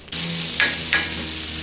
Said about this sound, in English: Into the cast iron skillet it has gone, with a heap of butter sizzling away in there too.